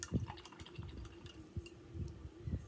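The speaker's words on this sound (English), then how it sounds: "Now I'm going to rinse this really good." A paint brush is swished and rinsed in a small cup of water, faint, close-up sloshing and dripping in short irregular bursts.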